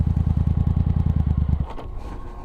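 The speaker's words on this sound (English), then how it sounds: "If I put the clutch out without any throttle, the bike will stall." Yamaha FZ-07 motorcycle engine thumps at idle up close, its rhythm pulsing steadily for about a second and a half, then stalls abruptly as the clutch is let out without throttle, leaving a faint low rumble.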